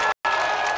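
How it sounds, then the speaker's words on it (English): A crowd cheers and applauds at a Ballard FC soccer match against Project 51O right after a goal, a moderate, steady roar broken by a brief gap. "The crowd goes wild, and Ballard FC sprints to the corner flag"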